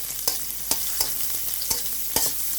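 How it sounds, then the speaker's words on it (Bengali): Chopped green chillies frying with fish roe in hot oil, a steady close sizzle broken by regular spatula strokes scraping the pan about every half second. "এভাবে একটু ভেজে নেব"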